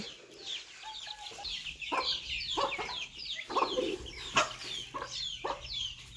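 Chickens cluck repeatedly around a rural Thai farmyard in the evening, a steady run of short, moderately close calls layered over soft outdoor background noise.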